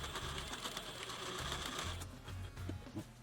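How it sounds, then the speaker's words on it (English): A sewing machine stitches a belt loop onto jeans, a fast rhythmic mechanical chatter that runs steadily, briefly eases, then resumes at a faint level with no talking. "I can go ahead and sew the top belt loop back on"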